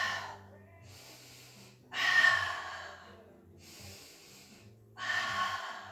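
Heavy, forceful breaths during a table position exercise, coming in three strong rhythmic exhalations with quieter inhales between them, close up and without talk.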